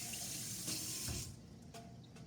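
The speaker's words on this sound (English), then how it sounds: "Let me rinse my fingers off here." Running tap water splashes into a sink as fingers are rinsed beneath it, a steady close rush that eases slightly near the end, in a kitchen while salmon piccata is being prepared.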